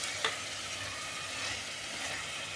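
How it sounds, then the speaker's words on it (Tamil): Pieces of mutton cook in oil left from fried onions for biryani, giving a steady, close sizzling hiss with light stirring. "இந்த வெங்காயத்தோட எண்ணெயிலேயே அப்படியே மட்டனும் கொஞ்சம் நேரம் வேகட்டும்"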